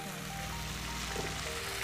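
Water is poured into a cooking pot of browned garlic, coriander and tomato in a home kitchen, a steady close splashing and rushing that runs unbroken for about two seconds.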